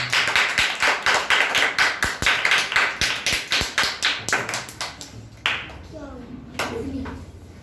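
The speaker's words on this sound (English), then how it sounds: "Clap for them" Small audience at a storytelling competition claps in a brisk, even rhythm of distinct nearby handclaps for about five seconds, then trails off into scattered claps and quiet talk.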